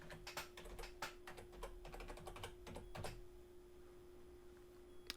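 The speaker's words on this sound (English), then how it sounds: "We'll just type in WooCommerce." Keystrokes on a computer keyboard come in quick bursts of close, crisp clicks for about three seconds over a steady background hum, then stop.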